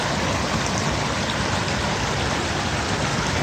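Steady, loud rush of water gushing through holes in a concrete crossing, broadband and continuous without pause, close up and filling the whole clip.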